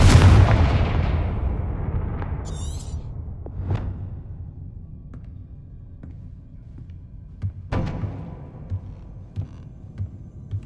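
Spells being cast in the Hogwarts Legacy video game open with a deep, loud explosion that rumbles away, followed by a brief whooshing shimmer and scattered sharper thuds and cracks later on, with no talking.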